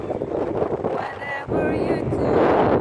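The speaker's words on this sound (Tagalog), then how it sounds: "Lakas ng hangin" Strong wind in a pond park in winter roars and buffets the microphone continuously, a dense rushing noise that surges slightly louder halfway through.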